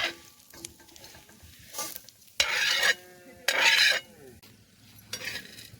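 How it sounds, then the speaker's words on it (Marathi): Garlic, coriander seeds and red chilies dry-roasting in a pan on a wood-fired stove, heard as soft scraping and stirring with two louder bursts of sizzle and rattle near the middle. "मस्त असा लसूण असला आणि धने आणि मिरच्या मस्त लालसर झालेल्या आहेत आता आपण काढून घेणार आहोत"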